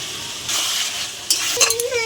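Mutton with potatoes and tomato fries in stock in a pan, giving a short burst of hissing sizzle with a few sharp clinks of stirring against the pot.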